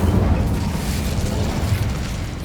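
An Incendio fire spell cast in Hogwarts Legacy, a sustained low whooshing roar of flame with a rumbling, crackling body that holds at steady loudness for a couple of seconds.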